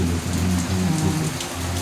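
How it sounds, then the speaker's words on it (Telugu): Steady rain falls outside by a home garden during a days-long spell of wet weather, a dense continuous patter with low rumbling undertones, fairly loud and close, with no voices. "రోజు వర్షం పడుతుందండి రెండు వారాల నుంచి అలాగే వర్షాలు పడుతున్నాయి"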